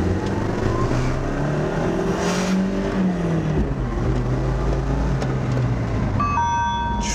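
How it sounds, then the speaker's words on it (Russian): Chevrolet Niva accelerating for a 0-100 km/h run, its engine droning and rising in pitch through the gears from inside the car, with a chime sounding near the end. "Сейчас мы попробуем проехаться и уже замерим разгон до 100."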